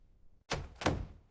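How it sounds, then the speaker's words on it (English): A door at an apartment, heard as two solid thumps or knocks about a third of a second apart, fairly close and clear against a quiet background. "Yes, I hear the door."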